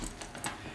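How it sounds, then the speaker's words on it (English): A zipper is drawn open across the expandable front compartment of a Think Tank FirstLight 46L+ camera backpack, giving a few quick, close rasping pulls in a brief burst with no voices. "So if you undo this zipper,"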